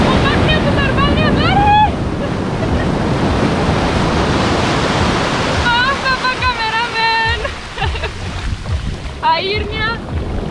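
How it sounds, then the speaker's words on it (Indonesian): Large ocean waves at Pelabuhan Ratu beach roar continuously and loudly with heavy wind buffeting, while someone talks over the surf at intervals. "Ombaknya besar banget."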